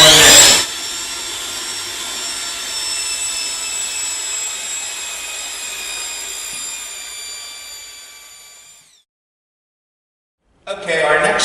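A power mixer whirs steadily as sand is added into liquid epoxy cove mortar in a bucket, then winds down and stops, leaving silence before a brief burst of noise.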